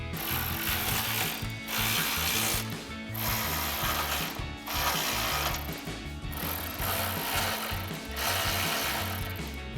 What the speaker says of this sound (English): Now we can tighten this down using our 10mm socket and the provided Allen key.